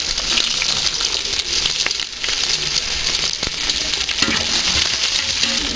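Onions sizzle steadily in hot oil in a pan with cinnamon, cloves and fennel seeds as the base for tomato rice: a dense, continuous close-up frying hiss with occasional louder pops.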